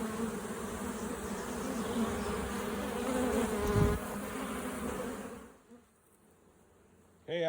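Honey bees from an opened comb honey hive, riled up and buzzing in a dense, steady swarm close by for several seconds before cutting off to near silence.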